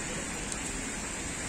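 Heavy rain falls steadily outside a sweet shop wedding venue in Faridabad at night, a dense continuous hiss that stays even throughout without a break.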